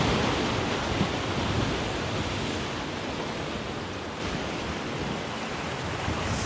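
Ocean waves washing onto a shore during a beach cleanup, a steady broad roar of surf, loud and continuous with no talking.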